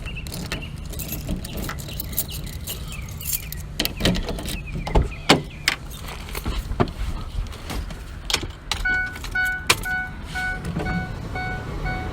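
Keys jangle and a car door opens and shuts as someone climbs back into a parked car, with clicks, thumps and a power-window whir layered over a steady low road hum; a few beeping chime tones follow near the end.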